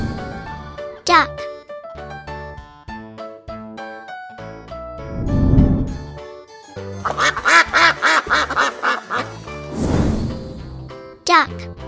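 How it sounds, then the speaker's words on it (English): A duck quacks in a short run of nasal calls over a bright, tinkly children's music bed, with soft noisy bursts between the notes. "Duck."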